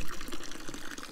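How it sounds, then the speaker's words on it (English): Tap water runs in Spain, a brief steady splashing gush of water from a faucet, close and continuous. "That is Spanish tap water at its best"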